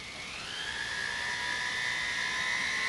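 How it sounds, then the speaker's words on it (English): Fine grit unitizing wheel spins against a stainless steel bangle, polishing its inside surface with a steady high whine and hiss, fairly faint and close, with no talk. "this is a fine grit unitizing wheel"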